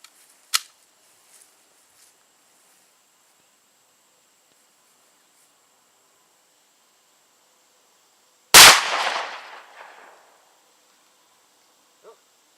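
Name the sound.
Hi-Point C-9 pistol firing rounds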